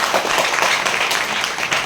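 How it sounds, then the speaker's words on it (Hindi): A crowd at a motivational business seminar applauds, a brief burst of dense hand clapping that fills the room evenly from start to finish. "तालियां बजा के थोड़ा बता दो अगर आप तैयार हैं तो"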